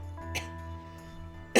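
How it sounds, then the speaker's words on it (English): A person coughs twice, one short cough early and a louder, closer one at the end, over a quiet background with a steady low electronic hum. "I'm just gonna leave in like my coughs and everything"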